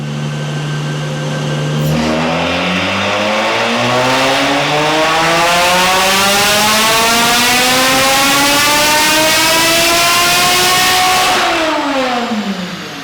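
Supercharged Lotus Evora GT engine on a tuning run, loud and close, pulling from a steady idle into one long continuous rise in revs over about ten seconds before easing off at the top.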